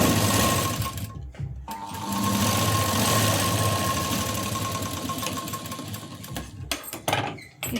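Sewing machine stitching two sleeve pieces together along a joint, a steady fast mechanical whir running continuously with short pauses and restarts near the start and end, close and loud.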